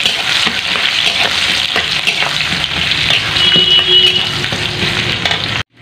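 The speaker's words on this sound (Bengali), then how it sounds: "পেঁয়াজগুলি লাল লাল করে ভাজা হয়ে গেছে" Chopped onions fry loudly in hot oil with dried red chillies, bay leaves, garam masala and cumin, a constant crackling sizzle broken by scraping stirs before cutting off abruptly.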